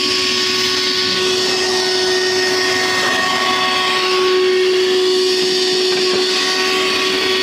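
A shop vacuum pulls air steadily after its opening is sealed during a repair job, giving a loud, constant whooshing hiss with a whistling tone running unbroken throughout.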